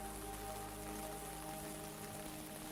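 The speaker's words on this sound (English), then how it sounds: "a light rain has begun to fall. The kind of rain that taps gently on rooftops." Light rain taps gently on rooftops, a faint, even patter under soft sustained musical tones, with no voices.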